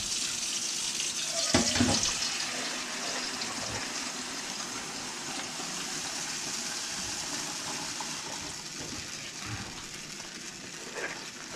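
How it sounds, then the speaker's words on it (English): Tap water runs steadily into a pot or measuring cup for smothered pork chop gravy, a continuous near hiss of flow with a few clinks of handling early on and no voices. "I'm thinking I do need to add some more water."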